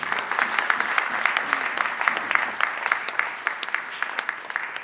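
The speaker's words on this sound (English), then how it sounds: "A round of applause for the crew members." An audience gives a round of applause for the crew members of the musical Queen Moreni, steady crowd clapping with distinct sharp individual claps throughout, moderately loud and continuous, with faint voices underneath.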